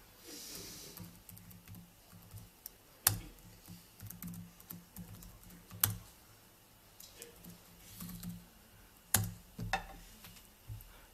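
Typing on a computer keyboard during a live GNOME Shell demo, with quiet scattered key clicks and a few sharper, louder taps standing out over a low room hum.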